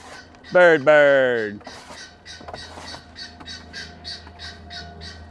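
A gray parrot gives a loud, rising squawk up front, then follows with a string of short chirps and whistles at a steady rhythm, close by and with no talking.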